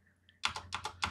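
Quick, crisp clicks of typing on a computer keyboard begin after a brief quiet pause, arriving in several close bursts at a soft level with no voices over them.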